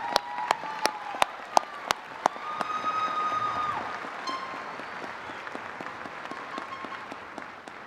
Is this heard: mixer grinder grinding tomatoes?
no